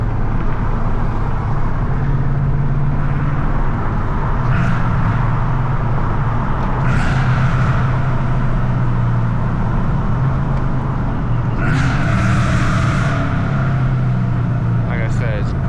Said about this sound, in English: I'm gonna end it off with a couple crispy downshifts over here.